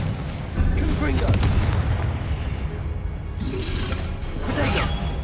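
Booming explosions from the Confringo blasting spell in the video game Hogwarts Legacy, with heavy rumbling bursts and whooshes over continuous battle noise and a voice talking.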